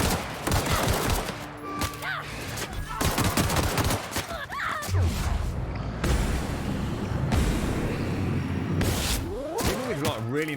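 Rapid pistol shots crack out in bursts during a firefight in the sci-fi shooter The Outer Worlds, layered with game effects while a player talks over the action.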